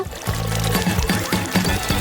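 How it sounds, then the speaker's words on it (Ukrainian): Lemon juice is squeezed from a small hole in a lemon into a glass, a brief liquid pour with rhythmic gurgling spurts repeating quickly, close and fairly loud. "Залишили зробити невеликий отвір в лимоні і видавити весь сік у склянку."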